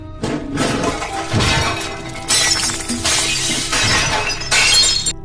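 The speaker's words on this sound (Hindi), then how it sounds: "अचानक किचन में से कुछ भारी सामान गिरने की आवाज से मेरी नींद खुल गई" A loud crash of heavy kitchen items tumbling down, with glass shattering and clattering debris in several bursts over a few seconds.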